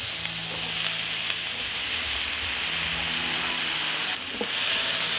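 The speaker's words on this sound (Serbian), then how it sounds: "Ulje se zagrejalo i spustit ću povrće da se prži." Vegetables sizzle steadily in hot oil, a constant crackling hiss with no talking.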